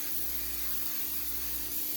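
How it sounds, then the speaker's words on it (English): Pam baking spray with flour hisses out of the can in one continuous, close burst, coating cookie sheets lined with parchment, no talking over it. "So we'll just spray them so they don't stick."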